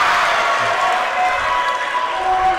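Crowd at a college volleyball match between Averett and Meredith, a steady wash of cheering and applause filling the gym without pause, loud and sustained.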